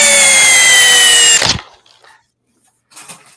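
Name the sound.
Makita 40V cordless drill running in drill mode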